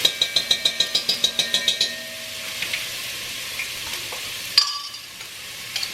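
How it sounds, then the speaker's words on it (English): Rehydrated onions drop into a pot and begin sautéing, first a quick run of rhythmic metallic taps, then a steady close sizzle with occasional stirring clatter. "All right, I'm gonna add the onions that we hydrated."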